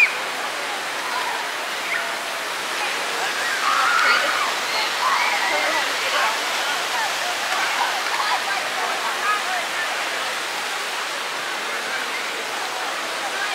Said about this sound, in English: Yep, there's the water right there.